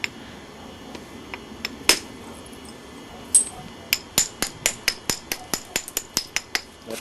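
Stone knapping on a small biface, sharp clicking strikes as major flakes come off, a few scattered hits early then a quick regular series of about a dozen crisp taps, close and fairly clear over a faint background.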